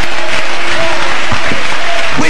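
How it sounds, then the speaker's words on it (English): A church congregation claps hands in praise during a sermon, steady dense clapping filling the whole moment, loud and close, with voices mixed in under it. "Oh, clap your hand and praise him."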